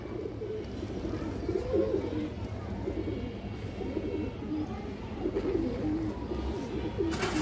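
Several pigeons coo in repeated soft, low phrases over a steady background hum, faint and close, with no talking.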